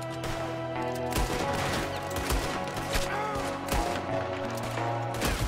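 Gunfire rings out in Red Dead Redemption 2, a rapid run of sharp shots and bursts scattered across a few seconds over a dense backdrop of game sound.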